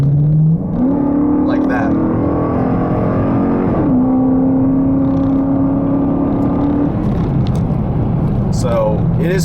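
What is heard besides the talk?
Dodge Challenger R/T accelerating hard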